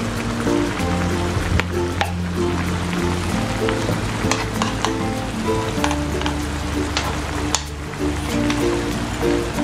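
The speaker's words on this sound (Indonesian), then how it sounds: "Ini kita aduk rata" Food sizzles steadily in a hot pan while being stirred, the pan seasoned with salt, ground pepper, sugar and oyster sauce for a green bean stir-fry, with soft scraping over low background music.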